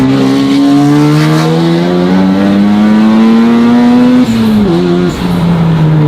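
A Mazda RX-7 built as Han's Fast and Furious car drones loudly and steadily as it drives, its engine note climbing smoothly under acceleration, then briefly dipping and wavering near the end, with no voices.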